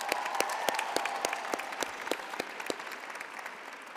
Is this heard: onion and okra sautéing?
no